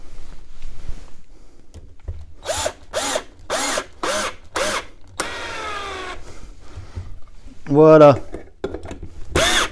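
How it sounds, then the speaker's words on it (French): Power drill driving long screws into wood while building an indoor home cycling trainer, several short bursts of whirring in a row, then a longer one, close and loud, with a person speaking briefly in between. "Ensuite, on va venir visser la seconde."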